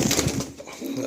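Pure Andhra breed pigeons cooing in a breeder's loft, a short soft burst of low coos close by with a little background noise.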